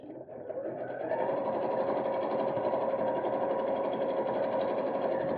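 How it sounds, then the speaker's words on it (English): A sewing machine top stitches close to the edge across the top of a fabric purse organiser craft bag, running in a steady, continuous hum that starts after a brief moment and holds at an even level to the end. "I'm going to top stitch just across the top, very close to the edge"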